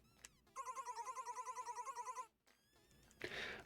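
A telephone rings in the video game Mad Rat Dead, a clear burst of rapid trilling rings lasting under two seconds, followed by quieter game sounds and a brief noisy swoosh.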